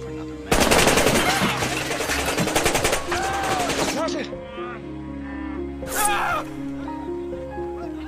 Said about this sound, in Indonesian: seorang penjaga yang lagi latihan menembak gak sengaja membuat kekacauan yang hampir